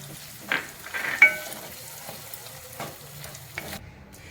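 A paste of cashews, almonds, melon seeds and poppy seeds is stirred in a pan with a utensil, producing soft scraping strokes and light clinks over a faint sizzle, quiet and close with no talking.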